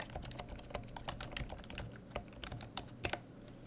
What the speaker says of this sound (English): I'll press the space bar and continue typing now.